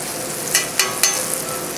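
Turkey sautés in clarified butter over a high flame, a steady close sizzle with three quick scraping stirs near the start.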